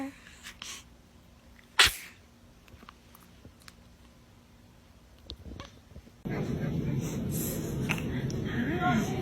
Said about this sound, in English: Were you about to sneeze?